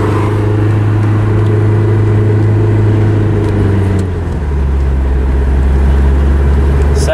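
A Volvo wagon with a suspected overdrive fault pulls away in first gear, a loud close steady engine drone that rises, briefly dips as the revs change, then settles lower.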